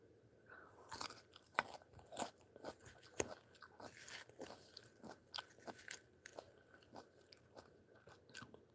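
Crunchy fruit eaten up close, with repeated crisp bites and wet chewing crunches in an uneven rhythm throughout, quiet and close with no talking.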